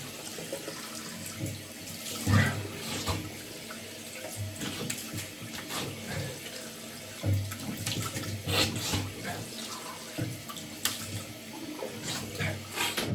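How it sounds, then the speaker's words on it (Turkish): Water runs from a tap into a sink while someone washes their face after a shave with soap, splashing steadily and close by with intermittent louder splashes and no speech. "Şimdi yüzümü yine yıkıyorum."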